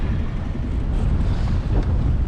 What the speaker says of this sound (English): It was much windier than I thought